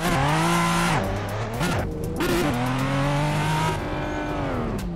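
Cars accelerate hard in an Assetto Corsa drag race on the GTA 5 map, engines roaring close and loud as revs climb and drop through gear shifts, with a brief tire squeal and no voices.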